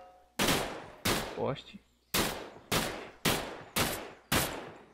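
Seven sharp, loud gunshots fired at roughly even intervals in the Brazilian survival video game Raised in Oblivion, each followed by a short decaying echo, with a brief spoken word between two of them.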